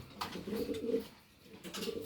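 An old Bangladeshi pigeon from 2014, in poor condition, coos softly in a breeding loft. Low throaty coos come in two short phrases over quiet room noise.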